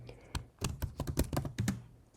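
Quick bursts of keystrokes clatter on a computer keyboard, irregular taps clustering in short runs before trailing off into quiet.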